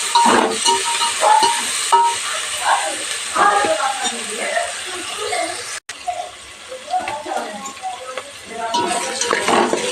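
Tomatoes sizzling in a pan as they are stirred while cooking cauliflower bagara rice, with frying hiss, spoon scrapes and clanks in bursts, and a voice talking over the cooking.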